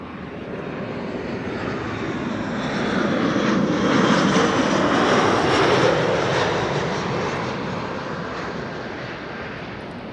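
An airliner passing at Amsterdam Schiphol Airport, its broad jet roar swelling to a peak midway and then slowly fading, steady and fairly loud with no talk.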